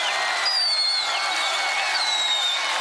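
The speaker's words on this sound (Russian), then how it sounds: "Вот сейчас, пожалуйста, аплодируйте, сходите с ума от счастья." An audience at a rhythmic gymnastics competition applauds in a steady, dense wash of clapping, with a few high whistles cutting through the crowd noise.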